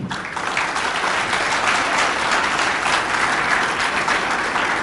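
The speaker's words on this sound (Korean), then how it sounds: "이승식 회장님께 큰 박수 한번 부탁드리겠습니다" Audience applause at a volunteer neighbourhood patrol association's chairman inauguration ceremony, a steady dense clapping sustained for nearly five seconds, fairly loud and close with no voices over it.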